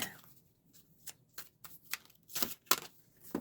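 Oracle cards being shuffled by hand in quick irregular bursts of papery riffles and taps, close and fairly quiet, with no voice over them.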